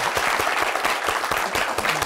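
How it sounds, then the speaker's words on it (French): Audience applause on a live show, a dense burst of many hands clapping at once, loud and sustained without pause from start to finish. "Applaudissez pour elle."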